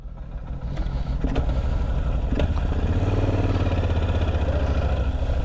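A motorcycle engine idles steadily with a low, even rumble, close by and continuous throughout.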